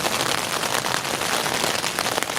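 Steady, dense rain patters on a surface, likely a tent, during a thunderstorm at a camp in Ontario, an even hiss without pause and no voices.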